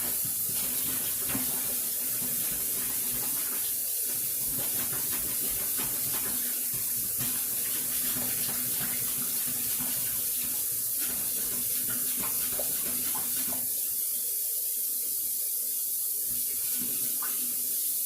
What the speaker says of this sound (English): I'm just going to rinse this macaroni in as cold as water as I can get.